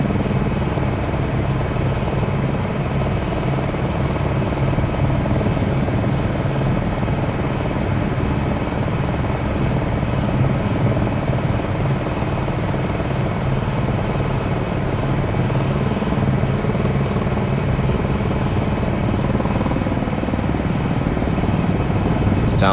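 Helicopter in Microsoft Flight Simulator 2020 during a hospital helipad mission, a continuous loud rotor and turbine drone with steady rumbling chop throughout, unchanging and close, as if from the cockpit.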